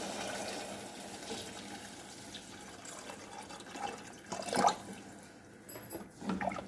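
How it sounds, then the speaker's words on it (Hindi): Water pours into a pot of cooked nihari meat in a pressure cooker, a continuous splashing rush that surges louder partway through before tapering off. "अब इसके अंदर पानी ऐड करेंगे और पानी इसमें इतना ऐड करेंगे कि गोश्त ढक जाए।"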